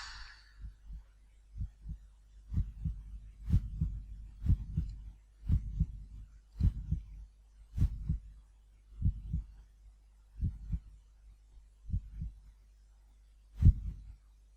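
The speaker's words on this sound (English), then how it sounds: "I really like the idea of someone's heartbeat trailing off as they die." A character's heartbeat in the horror game The Dark Eye thumps as steady, deep double beats at a slowing pace, isolated and clear against a low hum, with no voices.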